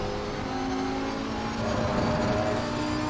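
Race car engine at low revs in the Assetto Corsa Competizione sim racing game, a Lamborghini on track: a steady, moderately loud droning hum with a slight rise in the second half, no voices.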